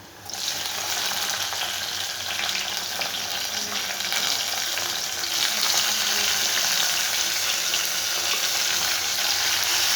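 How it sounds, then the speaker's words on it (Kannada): Chopped tomatoes go into a pan of frying onions, and a steady, loud sizzle holds for the whole stretch and grows a little stronger partway through. No one speaks over it. "ಈ ಥರ ಟೊಮೊಟೊ ಚಿಕ್ಕದಾಗಿ ಕಟ್ ಮಾಡ್ಕೊಂಡು ನಾನು ಟೊಮೊಟೊ ಹಾಕೋಣ."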